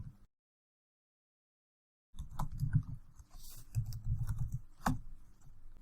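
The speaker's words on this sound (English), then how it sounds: "Next, you'll type in the address for your business." Fingers tapping out a business address on a computer keyboard, a short burst at the start, then a pause of silence, followed by a busy run of close, quick keystrokes with a few louder clacks.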